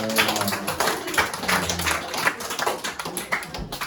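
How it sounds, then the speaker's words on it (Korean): A youth group at a church worship service claps for a new friend, with close, uneven clapping and tapping mixed with some voices. "우리 다시 한번 새로운 친구한테 큰 박수로"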